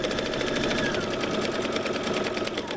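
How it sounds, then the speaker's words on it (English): A Baby Lock sewing machine runs steadily at close range, stitching a straight seam along the edge of a kitchen towel with a fast, even, whirring rhythm and no speech. "We're going to sew 1/4 of an inch off of the edge all the way around"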